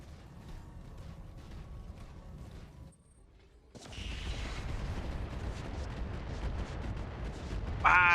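A salvo of MRM missiles launches and strikes in BattleTech, heard as a steady rumbling barrage of blasts that dips into a brief lull, then returns louder and denser, ending in a sharp crackling burst.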